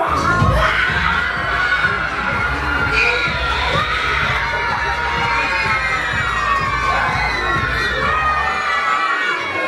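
Children at a New Year's party game shout together in a loud, sustained crowd of high voices with cheering, continuous and close throughout.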